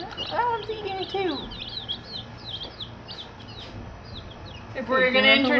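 Newly arrived baby chicks peep in short, high, rapid chirps, fairly close but soft, under stretches of people talking nearby, with a louder burst of voices near the end.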